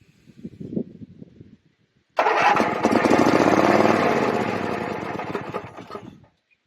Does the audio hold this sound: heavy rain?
no